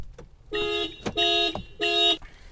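A Tata Punch anti-theft alarm sounds three sharp repeated electronic tone bursts, loud and close, separated by brief gaps with faint clicks between.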